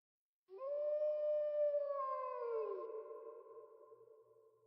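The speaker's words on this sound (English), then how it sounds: "I can hear him, Foxy the Pirate, howling from the depths of the canyon" Foxy the Pirate, an animatronic fox from the game Dayshift at Freddy's 3, lets out a single long, loud, wolf-like howl that rises and then slowly falls, echoing alone from deep within the Grand Canyon.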